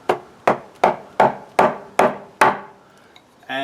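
A gouge strikes end grain while carving a bowl from very wet green wood, seven evenly spaced sharp knocks, each trailing off briefly, followed by a short rustle.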